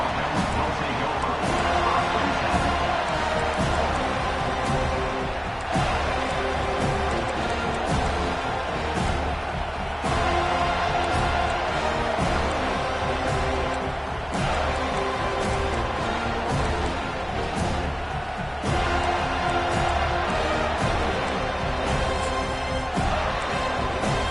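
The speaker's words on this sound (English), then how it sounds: "They challenge this crowd to bring the energy, and I'd say they're doing that." Stadium crowd roaring and cheering during a College Football 25 video game broadcast, a dense, steady wall of noise sustained throughout with commentary-like voices mixed underneath.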